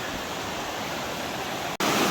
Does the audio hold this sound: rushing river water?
yes